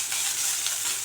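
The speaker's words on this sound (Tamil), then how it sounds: "தலையில் தேங்காய் கொஞ்சம் துருவி வச்சுருக்கேன், அதையும் சேர்த்து நல்லா கொஞ்சம் ஈரப்பதம் போக நம்ம வறுத்து எடுத்துக்கலாம்" Grated coconut dry-roasting in a pan for a peanut chutney, giving a steady, close, dry sizzling hiss with faint stirring scrapes, continuous and even with no voices.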